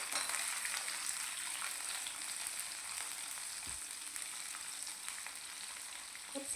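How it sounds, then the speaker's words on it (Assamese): Capsicum frying in a pan with garlic and chillies for a chilli fish recipe gives a steady, fairly quiet sizzle. It carries on unbroken, with a couple of faint soft knocks near the end and no voices. "কেপচিকামটো 1 মিনিটমান সময়ৰ কাৰণে ফ্ৰাই কৰি ল'ম।"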